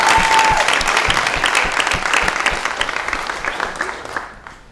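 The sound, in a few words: audience clapping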